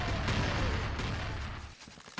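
Hand cannon, a double-barrelled shotgun in Action Quake 2, fires in a loud, dense burst of blasts that cuts off abruptly, then a brief gap and another sharp onset.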